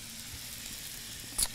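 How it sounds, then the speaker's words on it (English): Bacon frying in a pan with no added oil, a faint steady sizzling hiss with a brief louder crackle near the end. "So if you're frying up some bacon, you don't have to put any oil or anything in the pan"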